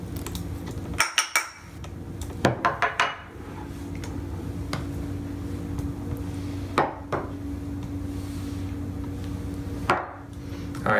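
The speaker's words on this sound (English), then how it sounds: "mix all of these together in one container" Pizza dough ingredients including olive oil and salt are mixed in one container, with sharp clinks and knocks of utensils against the container in short bursts over a steady background hum.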